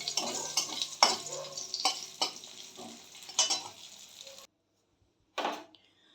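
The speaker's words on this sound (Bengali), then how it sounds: "বড়িগুলোকে ভালো করে ভেজে নিচ্ছি। মাছ ভাজার তেলেই এটা বড়িগুলো আমার ভাজা হয়ে যাবে।" Bori lentil dumplings fry in oil left from frying fish, with a soft sizzle and repeated clinks and scrapes of a utensil stirring in the pan, quiet and close, ending in a brief pause and one more stir.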